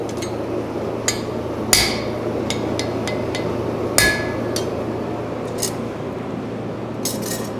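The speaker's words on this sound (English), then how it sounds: "I'm going to use a round punch to chisel in his eyeball" A hammer drives a round punch into horseshoe steel while a horse-head hoof pick is being forged, giving several sharp, ringing metallic strikes at irregular intervals over a steady low hum.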